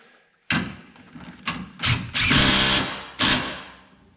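Power tool driving an upper sway bar link bolt on a Jeep Gladiator during a 2-inch lift kit install, heard as several close, loud whirring bursts of varying length with short pauses between.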